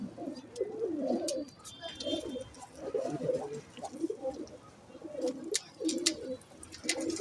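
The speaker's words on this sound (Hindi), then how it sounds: "मजबूत कबूतर हैं।" Breeder pairs of strong-boned star pigeons cooing in repeated soft, throaty bursts at close range, a steady rhythm of low coos with faint chirps and clicks in the background.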